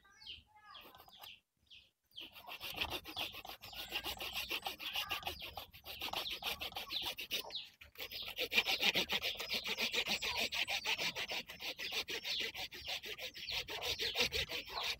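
Handsaw rasping back and forth through a hard trunk of a ground-planted tree, a steady rhythmic stroke close by, with a short pause early on and birds faintly calling in the background.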